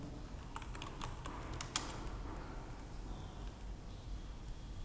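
Clicks of typing on a computer keyboard while Java code is written, with a quick burst of keystrokes early on, then softer, sparser taps over a faint steady background hum.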